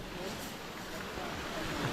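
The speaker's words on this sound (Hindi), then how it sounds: "बहुत ही बड़ा भाई झरना बह रहा, देखो" Tiger Waterfall near Chakrata, a large cascade, gives off a faint, steady broadband rush heard from a distance, mixed with wind buffeting the microphone.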